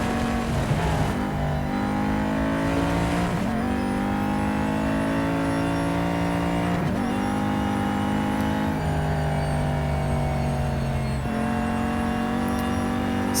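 A Chevrolet Camaro GT4 race car in Real Racing 3 heard from the cockpit, its engine droning loud and continuous, climbing through the gears with several sharp shifts as the pitch drops and rises again.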